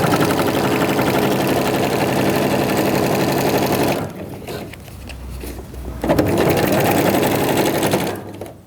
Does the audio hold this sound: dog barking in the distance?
no